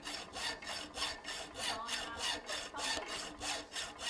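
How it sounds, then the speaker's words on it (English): A hacksaw cuts with its blade edge oiled with boiled linseed oil: steady back-and-forth rasping strokes in an even rhythm, about two per second, close and moderately loud, with no voices. "We'll make another cut. And then when you can, use the whole length of the hacksaw blade."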